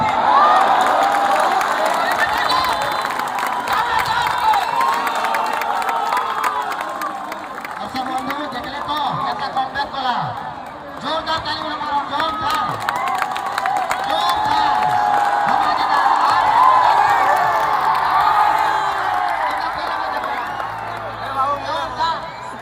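A large crowd at the Jamkuta vs Balangir final match roars and cheers continuously, a dense, loud wash of shouting and whooping voices with someone talking close over it.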